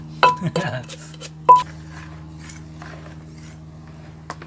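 Ingredients for bamboo shoot curry pounded in a glass: a few sharp, close clinks and knocks early on, then one hard strike and a faint late tap, with a voice murmuring in the background.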